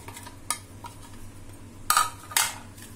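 Cauliflower and onion samosa filling being mixed in a bowl, with sparse clinks and scrapes of a utensil against the dish, a few louder knocks standing out over quiet room noise.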